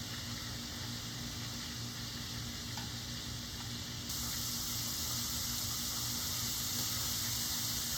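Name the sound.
chicken livers frying in a pan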